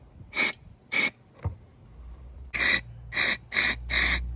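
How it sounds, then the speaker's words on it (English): Several short hissing sprays of aerosol brake cleaner into the carburetor jets of a 2006 Honda Rancher 350 ATV, each about a quarter second, with a pause and then a quicker run of four bursts over a low hum. "I'm gonna spray it right into these jets."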